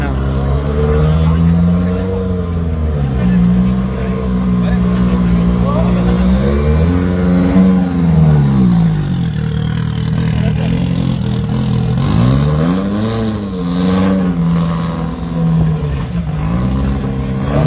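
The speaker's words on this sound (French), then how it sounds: "Écoutez ce beau moteur de Seven." A Seven rally car engine, an old one from 1973, revs loudly and steadily, rising and falling in pitch through several throttle surges, close up with crowd noise underneath, at a rally's technical inspection.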